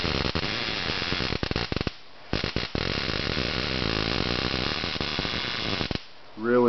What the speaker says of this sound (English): You can see it spark in there, nice spark